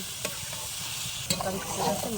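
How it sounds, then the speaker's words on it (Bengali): Beetroot frying with chopped onion and green chilli in a pan: a steady, moderate sizzle with a couple of sharp stirring clicks, the second followed by a livelier burst of crackle. "পেঁয়াজ কুচি আর দুটো কাঁচা লঙ্কা কুচি দিলাম ওর মধ্যে দিয়ে বিটটা ভালো করে ভেজে নেব"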